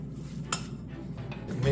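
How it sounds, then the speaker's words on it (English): A spoon mixing sugar and other ingredients in a bowl for fish tacos, a few light clinks and scrapes against the bowl close up over a low background hum. "Now we mix."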